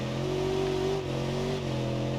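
A car engine in the BeamNG.Drive driving game, a Bajarama police package car, revs hard and holds a loud, steady droning whine with a slight pitch rise and dip, close and continuous with no talking.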